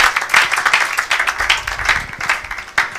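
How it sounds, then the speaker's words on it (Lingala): A church congregation claps in lively, rapid applause that stays steady and full throughout, with the sound of many hands together in a worship service. "Acclamez pour la gloire de notre Dieu"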